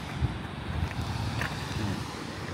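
Waves crash against the dramatic cliffs of Batanes, heard as a steady, broad roar of water and wind with no distinct breaks, close and fairly loud, with no voices.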